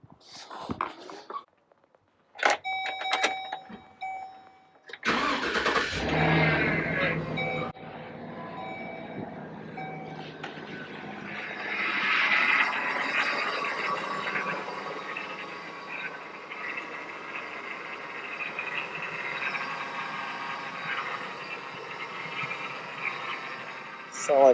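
A 6.0 Vortec V8 in a 2007 Chevy Express van cranks over and catches, then settles into a steady, loud idle with a faint whine, heard up close in a garage at night. A voice speaks briefly before the start.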